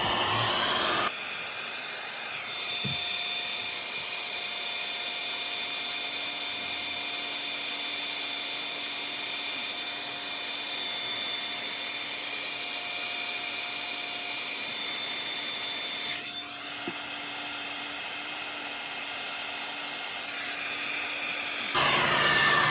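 A heat gun warms a part on a Porsche, giving a loud, steady whooshing hiss with a constant motor whine that runs nearly unbroken for over twenty seconds, briefly dipping once midway, with no talking.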